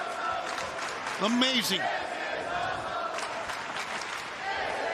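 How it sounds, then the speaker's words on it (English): A wrestling arena crowd cheers and roars in a dense, sustained wash of noise, swelling briefly as a commentator's voice rises over it. "You hear the crowd."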